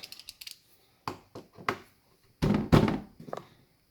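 Sharp knocks and taps as small pins are driven out of a JM ACR-J10 gel blaster during a teardown, a quick cluster of light clicks followed by heavier, louder thuds, close up with no talking.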